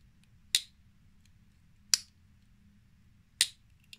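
A folding knife with red scales clicks shut three times, each a crisp, sharp snap separated by about a second and a half of quiet, close and fairly faint.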